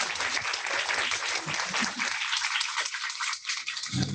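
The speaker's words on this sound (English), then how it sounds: "Shall we give a round of applause to Uisenma?" Audience applause greeting a film director at a post-screening Q&A, a full burst of many people clapping that thins out, with a voice cutting in at the close.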